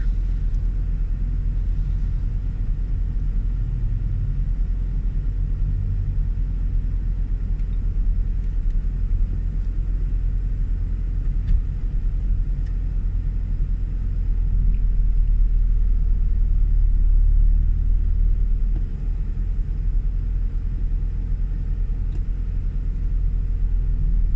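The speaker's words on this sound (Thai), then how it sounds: "ห้าสิบนาทีกว่ารถติดค่ะ รถติดนานด้วยเลย" Low, steady rumble of cars idling and creeping along in a long traffic jam, heard from inside a manual-transmission car, with a slight swell in engine noise midway and no talking.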